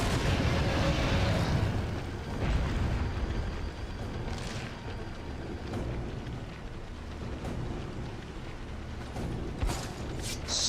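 A grenade blast in Resident Evil 4 (2005), a heavy booming explosion at the start with rumbling debris and mechanical clatter trailing off, followed by sharp in-game impacts and creaks.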